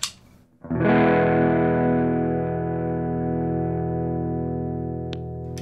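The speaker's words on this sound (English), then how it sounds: "let's try it through a DOD kind of sound." A single sustained bass note from an Ernie Ball Music Man Stingray bass through a DOD distortion pedal rings out after a brief pause, thick and fuzzy, holding steady for several seconds with a short click near the end.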